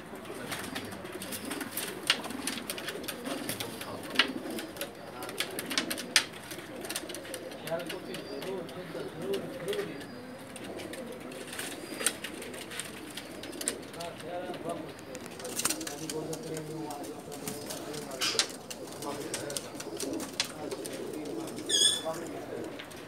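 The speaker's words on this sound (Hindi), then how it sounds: "सब के सब सियालकोटी कबूतर हैं जी" Sialkoti pigeons coo repeatedly in a loft, soft throaty calls overlapping at close range while someone talks over them.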